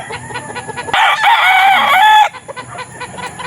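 A spangle gamefowl rooster on a game farm crows once, loud and close, a drawn-out harmonic call lasting over a second, with farmyard chatter and clucking faint before and after.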